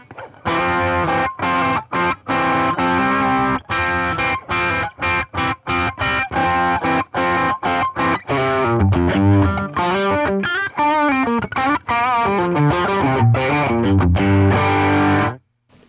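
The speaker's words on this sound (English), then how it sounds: "this is into a clean deluxe reverb normal channel, so all of the drive kind of character is coming from the pedals" Electric guitar played through overdrive pedals into a clean Fender Deluxe Reverb on its normal channel, giving a loud, sustained, distorted tone with strummed chords and choppy stabs, then a more melodic run, all alone and close.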